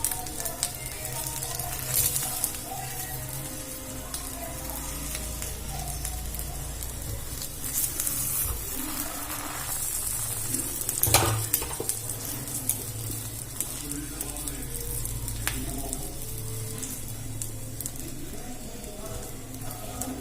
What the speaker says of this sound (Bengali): তেলটা গরম হয়ে গেছে, আমি এবারে দিয়ে ভেজে নেব।